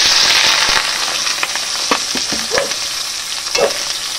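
Onions sizzle and hiss steadily in hot oil in a kadai wok for a riyaji mutton dish, with close scraping stirs and clinks from a spatula breaking through the constant frying.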